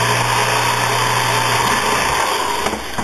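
A power drill runs at steady high speed while drilling a pilot hole for landing gear blind nuts, a continuous close whine that changes slightly near the end.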